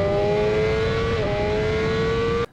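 A Honda CBR1000RR-R SP four-cylinder motorcycle engine holds a loud, steady high-rev drone with a clear whining tone, dipping briefly midway before cutting off abruptly at the end.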